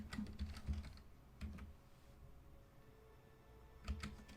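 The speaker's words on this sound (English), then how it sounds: "Let's type in Africa, African map. Or let's just type in world map." Computer keyboard typing a search, quiet bursts of clicking keystrokes in short clusters separated by pauses, close and soft with no talk.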